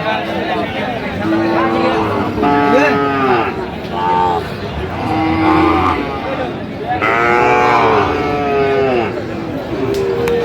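Sahiwal bull calves mooing repeatedly at a Noakhali cattle market, loud and close, with several drawn-out calls overlapping amid crowd chatter in the background.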